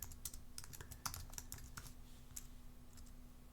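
Quick, light keystrokes tap out a burst of typing on a computer keyboard, close and quiet, in an irregular run of clicks with a faint steady hum underneath.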